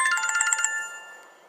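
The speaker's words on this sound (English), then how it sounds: "Oh, my phone's ringing." A mobile phone rings with an incoming call outdoors at a ranch: a quick, bright electronic ringtone melody of rapid repeated notes, close by, cut off after about a second.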